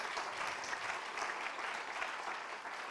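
Steady, dense audience applause at an awards ceremony for media innovation winners, a broad even wash of many hands clapping without pause, moderately distant.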